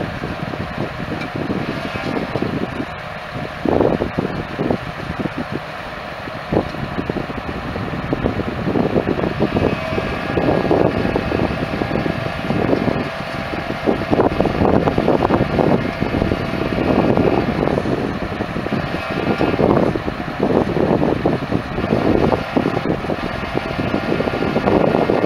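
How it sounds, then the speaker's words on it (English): A tractor fitted with a 17-foot rear-mount Bush Whacker boom mower sits idling, a loud steady engine rumble with fluttering bursts and no speech. "the tractor is just sitting there at idle."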